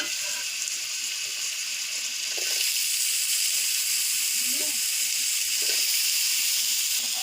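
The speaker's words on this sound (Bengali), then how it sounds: "পেঁয়াজ রসুন দিয়ে দিচ্ছি একটু ভেজে নেব" Onion and garlic frying with pointed gourd in a pan, giving a steady bright hiss and sizzle that stays even throughout with faint soft knocks underneath, no talking.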